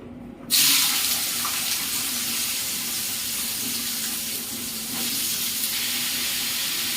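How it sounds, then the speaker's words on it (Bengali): Potato, beet and carrot pieces hit hot mustard oil with a sudden loud sizzle that settles into a continuous, dense hiss of frying, fairly close and unbroken. "এই পর্যায়ে আগে থেকে কেটে রাখা আলু, বিট, গাজরগুলি দিয়ে ঢাকা চাপা দিয়ে ভেজে নেব"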